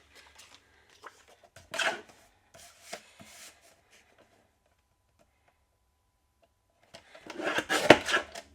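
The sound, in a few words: trimming craft card pieces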